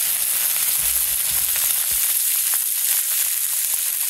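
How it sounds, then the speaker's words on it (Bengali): Vegetables and onions frying in a pan make a loud, continuous close sizzle with a bright hiss and a few low knocks early on, no voices. "এই যে পেঁয়াজটা একটু ভাজি হয়ে গেছে, এই যে সবজিগুলো দিয়ে দিলাম।"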